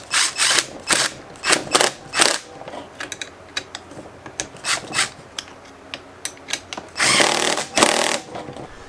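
A power tool tightens parts of a Fastline shifter on a Honda Integra, giving short ratcheting mechanical bursts in quick succession, some close and loud, with a longer sustained burst near the end.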